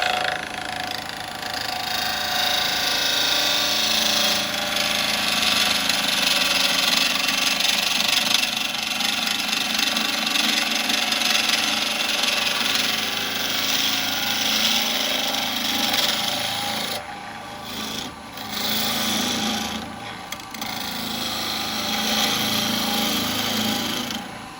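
A woodturning tool cuts into a hard walnut burr bowl spinning on a lathe, giving a continuous rough scraping hiss with a few brief dropouts toward the end.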